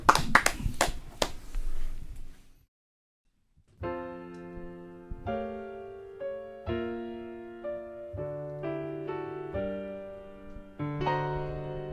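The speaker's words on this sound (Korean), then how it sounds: "박수로 청해 주시죠." Audience clapping and hands tapping in a television studio fill the first two and a half seconds as a short, dense burst, then silence falls and sustained piano-like musical tones take over.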